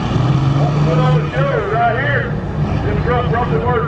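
An International semi truck revs hard at a night-time truck pull in Grafton, West Virginia, its engine loud and close with rising and falling pitch sweeps; a voice talks over the noise.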